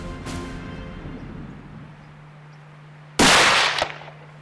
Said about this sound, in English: and Fred prepares to take a shot